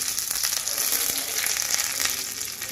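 Mustard seeds and curry leaves crackle and sizzle in hot oil in a home kitchen, a brief, close, continuous frying hiss with small pops.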